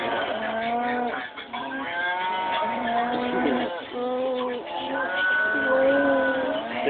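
Several cows moo repeatedly in long, overlapping calls, loud and close, with brief gaps between them and a busy background that may include faint voices.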